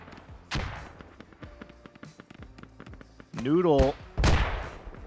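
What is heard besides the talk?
mortar fire and explosions in the video game Squad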